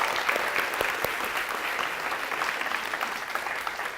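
An audience at an intern innovation finals event claps steadily for the GIS team, a dense, even wash of applause that holds at full strength throughout.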